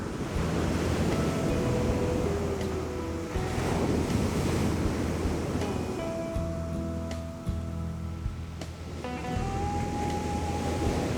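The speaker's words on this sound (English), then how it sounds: "The surf gave the penguins pause for concern." Ocean surf breaks steadily on a stony South Atlantic shore. It is a loud, continuous roar of crashing waves mixed with wind buffeting the microphone, with no voices.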